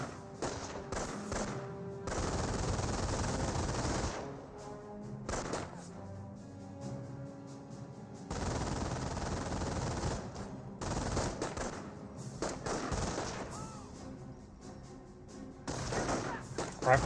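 Machine gun fire from the Company of Heroes 1 video game, with sustained rattling bursts and gaps between them over a rumble of battle, moderately loud, with occasional background voices.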